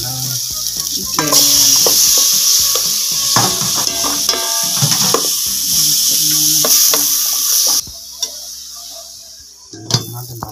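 Chicken added to a hot pan and sautéed: a loud, close sizzle with scraping stirs and clinks of a utensil against the pan, then the frying drops back to a softer hiss.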